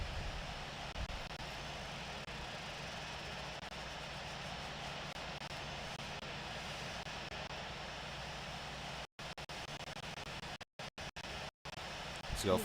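The number two engine of an airliner starts up in the Infinite Flight simulator game as a steady, even engine drone that holds throughout, broken by a few brief dropouts near the end.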